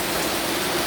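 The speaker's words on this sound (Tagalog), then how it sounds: "Grabe ang bukbuk sang ulan." Heavy rain pours down on a rainy morning, a dense, constant broadband hiss of drops hitting surfaces, loud and steady with no voices.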